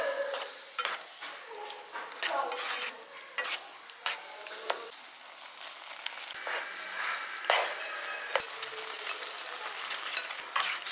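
Beef loaf and noodles with Prego sauce frying in a pan, stirred with a utensil: a soft sizzle runs throughout under repeated scraping and clinking strokes against the pan, close and moderately loud.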